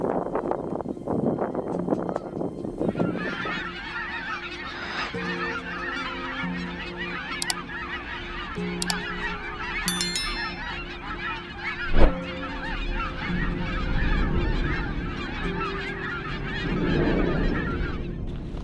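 A large flock of wild geese in Florida honks continuously and loudly, with overlapping calls close by and farther off, over steady wind noise and a few sharp tonal peaks.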